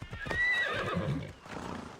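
A horse in Assassin's Creed Odyssey gives a loud whinny lasting about a second, with hoof clops and game sounds underneath and a quieter tail at the end.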